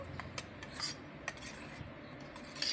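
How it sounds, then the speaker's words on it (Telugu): A spoon stirs ragi flour into cold water, giving soft, faint clinks and scrapes in an irregular rhythm, close by and quiet. "చల్లగున్న నీళ్ళని బాగా తిప్పుకొని కలుపుకోండి, రాగి పిండి కలిసేంత వరకు"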